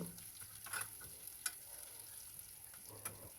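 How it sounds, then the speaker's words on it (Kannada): Green chillies and onion frying in oil for upma, a soft steady sizzle with a few light clicks of a spoon stirring the pan, fairly quiet and close with no voices. "ಮೆಣಸಿನ್ಕಾಯಿ, ಇದನ್ನು ಒಂಚೂರು 10 ಸೆಕೆಂಡ್ಸ್ ಫ್ರೈ ಆದಮೇಲೆ ಈರುಳ್ಳಿ, ಇದನ್ನು ಚೆನ್ನಾಗಿ ಮೊದಲು ಫ್ರೈ ಮಾಡ್ಕೊಬೇಕು"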